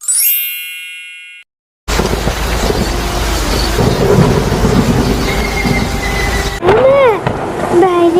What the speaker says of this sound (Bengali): বাইরে তো অনেক বৃষ্টি হচ্ছে, আমার বৃষ্টিতে ভীষণ ভয় লাগে। কত ঝড় হচ্ছে, বিদ্যুৎও চমকাচ্ছে।